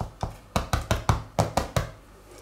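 Knuckles knocking on the crust of a large freshly baked zucchini bread loaf, about eight hollow thuds in a loose, uneven rhythm, close and clear with no talking.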